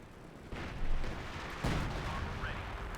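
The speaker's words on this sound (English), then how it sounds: "artillery fire here in the German positions from MotoMoto's Priest" Artillery shells from a Priest self-propelled gun slam into German positions in Company of Heroes 2, two heavy booming impacts about a second apart over a continuous battlefield rumble, fairly loud and close.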